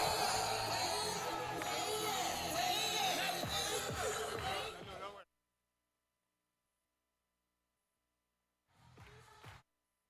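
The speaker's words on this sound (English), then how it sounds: "Hands in the air and cheer them on." An event crowd cheers and whoops loudly for several seconds, then silence, followed by a short burst of crowd noise near the end.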